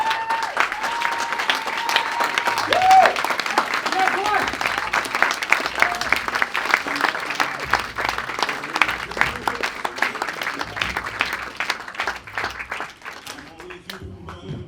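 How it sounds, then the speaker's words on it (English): Sustained audience applause for a speaker on stage, dense clapping holding steady for about twelve seconds before thinning out, with shouts and voices calling out over it. "can I please get a massive, outstanding round of applause for Lachie?"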